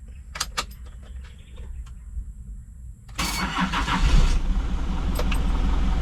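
An Isuzu Elf truck with a 4HL1 engine is started: keys rattle, then the diesel cranks and catches around the midpoint and runs into a loud, steady idle close by.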